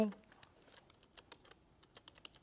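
Computer keyboard keys tapped in quick irregular clicks while entering an ad setting name, faint and close, with soft pauses between bursts.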